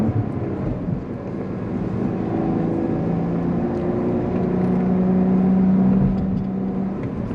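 Inside a 2024 Cadillac CT4-V Blackwing, the engine drones steadily under acceleration, rising through the gears with a muffled cabin roar and low rumble, no talking.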